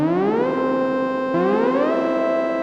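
A bright synth note from the Ambient Ø synth swoops upward and settles, then the rising glide repeats a second time, slightly longer, with no voices present.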